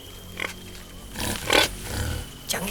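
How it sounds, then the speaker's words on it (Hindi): A wild boar in an outdoor rural setting gives several short, rough grunts and snorts, spaced irregularly and at moderate distance, over a low background hum. "भैया, जंगली सुअर।"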